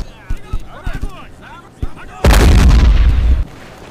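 Tank cannon fire in the World War II strategy game Men of War: Barbarossa, with Tiger tanks trading shots: a heavy close boom with a long rumbling tail follows scattered smaller thuds, while someone talks over the opening.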